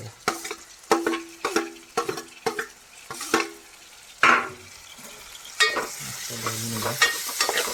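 Chopped tomato stirred into onions frying in a pan for a sea snail gravy: a spoon scrapes and clatters in repeated rhythmic strokes over a soft background sizzle, close and fairly loud.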